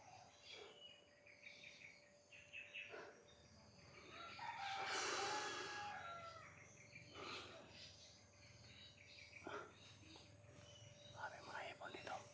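Chickens cluck and squawk faintly in the background over steady insect chirping, with a soft voice murmuring now and then.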